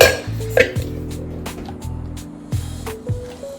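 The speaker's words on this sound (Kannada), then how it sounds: "ಇವಾಗ ಬಟಾಣಿ ಬೇಯಿಸಿದ್ನಲ್ಲ ಅದನ್ನ ಇವಾಗ ಫಸ್ಟ್ ಸ್ವಲ್ಪ ಸ್ಮ್ಯಾಶ್ ಮಾಡ್ಕೊಂತ ಇದೀನಿ" Boiled peas and potatoes being mashed for panipuri in a metal pot, with repeated soft thuds and clinks of the utensil against the vessel in a steady rhythm, close and fairly loud.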